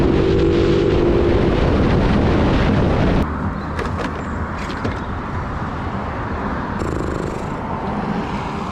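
A Honda C90 motorcycle with its carburettor needle dropped all the way is ridden, the engine and wind noise loud and continuous, with a steady drone that shifts in tone partway through.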